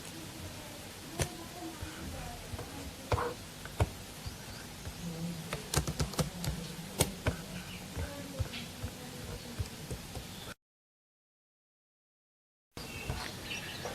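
Typing on a computer keyboard produces scattered sharp clicks and taps at an uneven pace, fairly quiet and close, with faint background chirps and a short gap of silence.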